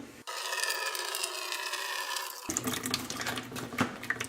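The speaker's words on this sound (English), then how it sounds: "So I'll put a little bit of water in the bucket." Water pours steadily into a bucket for mixing tile grout while an entryway floor is tiled, a rushing splash lasting about two seconds before giving way to softer clatter and handling noise.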